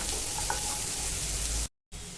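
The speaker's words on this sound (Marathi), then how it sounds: "कांदा आपला छान लालसर होईपर्यंत आपण भाजून घेणार आहोत।" Onions and tomatoes frying in a pan until reddish for a spicy chicken thali, giving a steady, close hiss that cuts out abruptly to silence briefly near the end, then resumes.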